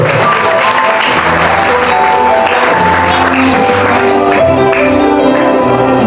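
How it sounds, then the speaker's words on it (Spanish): Guests at a quinceañera applaud over loud music with bell-like tones, the clapping blended into a strong, steady, close mix of sound. "Los aplausos, por favor."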